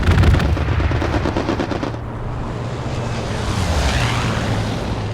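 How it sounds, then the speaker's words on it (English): Gunfire from a strafing run in the World War II shooter Hell Let Loose. A rapid burst of automatic shots rattles loudly for about two seconds, then gives way to a rumbling, wind-like roar that lingers. "I'll show you a strafing run here."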